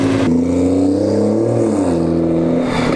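A remapped BMW 140i's engine holds a steady, loud, close drone whose pitch climbs gently and then eases back, with no voices over it.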